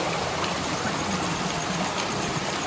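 A stream rushes below a village in the Konkan region while rain falls, making a dense, constant broadband roar with no pauses.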